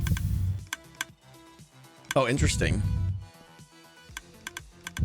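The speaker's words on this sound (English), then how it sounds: "I don't know what the extra clicking is here" Clicking from a redstone heartbeat mechanism in a Minecraft Decked Out dungeon: sparse, sharp ticks scattered throughout, with a person briefly speaking in the middle.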